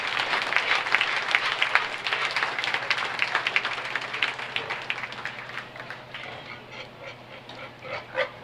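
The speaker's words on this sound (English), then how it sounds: "Let's give everybody another round of applause out here." An audience at a county fair swine show in Buffalo County applauds, with dense, sustained clapping that thins toward the end and a few scattered claps lingering.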